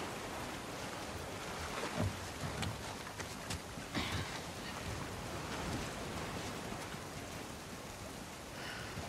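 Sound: rain in video game The Last of Us Part II

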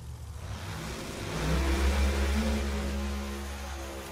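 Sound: Pro Mod drag race cars racing down the strip

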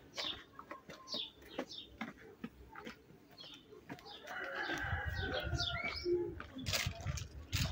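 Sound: birds chirping and cooing

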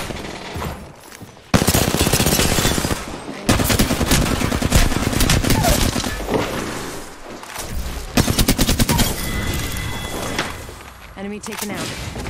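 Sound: gunfire in the video game Apex Legends

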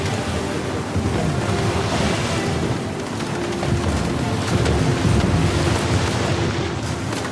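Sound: water and ocean waves in video game Uncharted 4

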